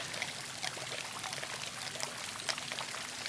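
Water is poured steadily into a small sample container at an ancient Pompeii site, a soft continuous trickle with faint splashes throughout, close and quiet, with no talk.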